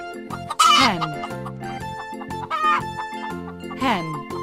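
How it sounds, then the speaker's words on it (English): A hen clucks in several loud, close bursts, with farmyard fowl calls rising and falling over a background of sustained tones. "hen,"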